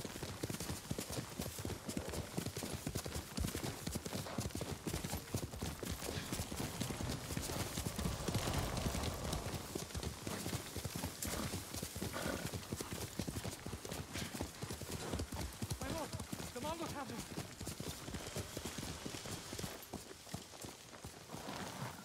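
Horse hooves clip-clop steadily and loudly in the Ghost of Tsushima video game, walking at a regular rhythm under dense game ambience and music, with an occasional snort.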